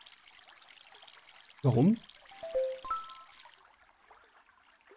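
Water pours from a watering can onto plants in the Nintendo Switch game MySims, a short splashing trickle with bubbly game tones, while a person speaks briefly over it.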